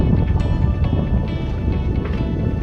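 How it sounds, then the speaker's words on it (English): Wind, sails and ocean waves aboard a sailboat on the Atlantic: a close, steady low rush with soft irregular water sloshes and faint flapping, no talking. "You hear nothing but the wind and the sails and the waves."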